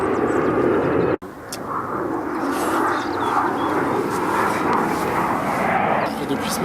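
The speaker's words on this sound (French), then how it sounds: "Ah oui, l'avion." An airplane passing overhead, a steady broad engine roar that holds for several seconds after a brief cut, with a voice speaking over it.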